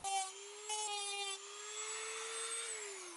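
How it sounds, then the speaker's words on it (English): A rotary tool trims nubs on a leather double shoulder holster, its motor giving a steady high whine that rises slightly in pitch, close and fairly quiet with no talk. "Any weird nubs like this, I'm going to use my rotary tool."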